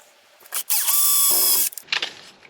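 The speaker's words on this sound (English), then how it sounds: "another random slightly smaller drill." A small blunt drill bit grinds into aluminium or steel on a mountain bike mudguard reinforcement. It gives one loud whining burst of about a second, its pitch dropping midway, between short clicks and handling noises.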